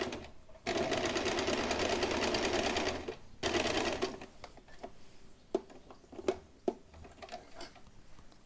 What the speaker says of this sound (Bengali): এইভাবে আমি স্টার্ট করলাম সেলাইটা দেখুন